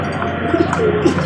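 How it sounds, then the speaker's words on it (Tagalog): Pet pigeons feeding on flyer mix, with soft close coos and faint chirps over a steady low background, no talking. "mga batang ibon magaganang kumain"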